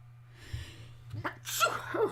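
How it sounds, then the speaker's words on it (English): A single close sneeze follows a sharp intake of breath, over a low steady hum. "I'm sneezing now as well."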